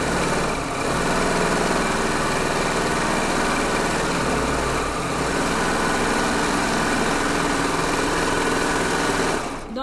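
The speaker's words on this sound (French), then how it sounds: "Donc là, je démarre et je vais faire ma couture ici." An overlocker (serger) runs steadily as it sews a seam over a zip, a close, continuous whirring motor hum that holds its pace for almost the whole stretch before stopping abruptly at the very end.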